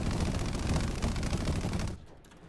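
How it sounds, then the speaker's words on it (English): A front-mounted 20mm aircraft cannon fires a continuous rapid burst in an air-combat video game, loud and dense for about two seconds before cutting off to quieter engine background. "I'm pretty sure this is an all-purpose 20mm cannon at the front"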